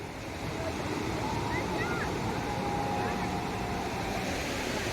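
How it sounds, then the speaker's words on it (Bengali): Sea waves wash onto the shore at Digha as a steady, rushing roar with wind noise mixed in, continuous and fairly close. "ঢেউটা এখন অনেকটাই বেড়েছে দাঁড়াও দেখো দেখো ঢেউটা কতটা বেড়েছে"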